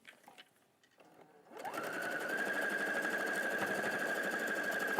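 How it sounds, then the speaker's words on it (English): A sewing machine starts up after some light handling noise and then stitches fabric in a steady, fast, even whirring run that stays loud and close to the end. "Over to the sewing machine."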